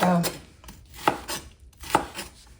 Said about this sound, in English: And I'm going to cut up my vegetables.